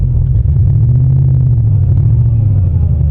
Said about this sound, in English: To keep it running, like just to keep it running, you got to really rev it, but we're sinking in the mud